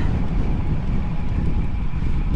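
Wind roars past the microphone during a long windy ride, a loud, steady low rumble with no talk.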